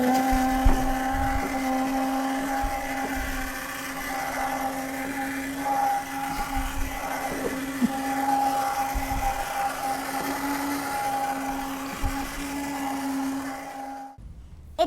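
A homemade hovercraft's motor whirs steadily with a loud, constant drone and a high humming tone throughout, then cuts off abruptly at the end.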